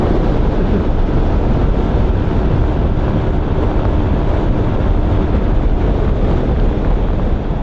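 Loud, constant wind buffets the microphone on a moving motorcycle with a dense low roar that never lets up.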